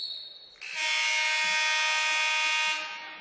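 A loud, sustained electronic buzzer sounds at the end of the first half of a high school girls basketball game, holding steady for about two seconds before cutting off, with faint gym noise around it.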